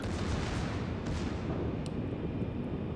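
Heavy naval gunfire from the Atlántico battleship's large secondary guns in a warship video game, a dense continuous roar of booming shots and rumble with no clear gaps between them.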